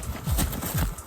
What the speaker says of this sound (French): Il y a un autre cheval qui arrive en courant